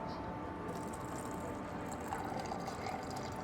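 Zamzam water pours from a dispenser into a cup for drinking on a hot day of about 41 degrees, heard as a soft, continuous trickling splash beneath a busy, hissing indoor background.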